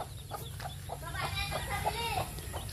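Hens cluck and chicks peep softly in a farmyard, with short, scattered calls at close range and faint voices talking nearby.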